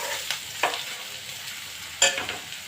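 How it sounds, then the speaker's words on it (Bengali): Beetroot fries in a pan with broken chillies, giving a quiet sizzle broken by a few sharp scraping stirs spaced irregularly. "আমার বিট ভাজা হয়ে গেছে"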